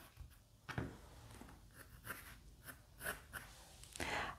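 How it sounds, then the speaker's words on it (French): A pencil eraser rubs away guide lines on paper during a watercolour Christmas penguin sketch, making soft, close scrubbing strokes in short irregular bursts, faint and alone. "je peux gommer ce que j'ai plus besoin"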